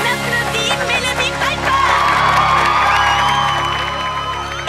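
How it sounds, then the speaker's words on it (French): A cartoon audience cheers and claps for Mélodie, a loud, continuous wash of whoops, shouts and applause that swells in the middle and holds steady, with voices shouting through it. "On applaudit Mélodie"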